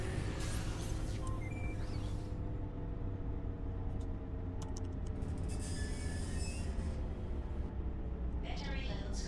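A video game train rolls along continuously with a steady low rumble and occasional wheel squeals, the sound holding level throughout.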